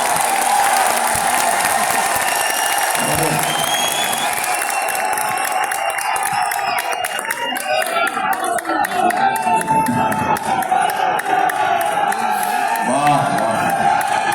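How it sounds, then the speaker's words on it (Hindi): A large crowd at a stage event applauds and cheers loudly, with shouts and whoops rising over continuous clapping, and a voice calling out now and then within the din. "इतनी बार तालियां बजवा ली इन्होंने"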